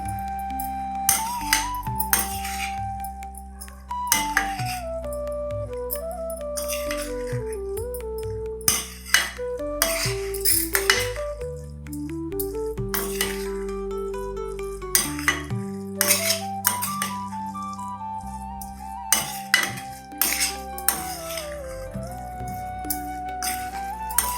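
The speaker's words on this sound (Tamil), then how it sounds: "வடித்த சாதம் சேர்க்குறேன் சேர்த்து நல்லா பரட்டி விட்டோன்னா புதினா சாதம் ரெடி ஆயிரும்" Cooked rice is mixed into a pan for mint rice, with a metal spoon clinking and scraping against the pan in scattered strokes over steady background music.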